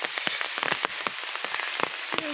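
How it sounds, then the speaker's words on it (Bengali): Rain falls steadily by a riverbank, a close, constant patter with sharper individual drops tapping irregularly on nearby surfaces. "এই দেখো, এখনো বৃষ্টি হয়েই যাচ্ছে।"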